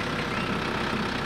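A big tractor engine idles at a sawmill with a steady, loud, dense rumble that holds even throughout with no pauses and no talk.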